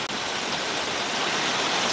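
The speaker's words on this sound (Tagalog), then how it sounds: "ito nakaharap tayo sa bagsakan ng tubig." Water from a waterfall in Switzerland pours down in a steady, close rushing roar, broad and unbroken with no voices over it.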